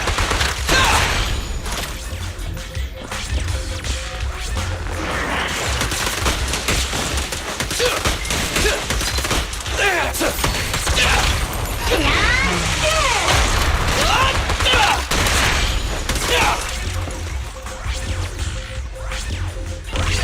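Rapid bursts of gunfire from the Zenless Zone Zero video game, dense and continuous over a loud action mix, with clanks and impacts throughout.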